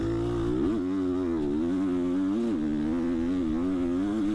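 A 250F four-stroke dirt bike engine races around a lap, its steady buzzing drone rising and falling with throttle blips and gear changes, loud and continuous with no voices.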